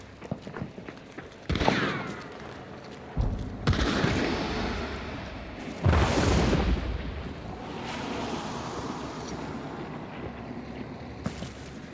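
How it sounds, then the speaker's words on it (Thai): In the video game Hunt: Showdown, three heavy booming decoy blasts go off a few seconds apart, each followed by a rumbling roar that slowly fades into a dull background hiss. "การระเบิดลวงนะ"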